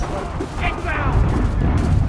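Artillery booms and gunfire from the video game Assassin's Creed III form a dense, continuous rumble of battle. Shouted voices cut through the combat noise.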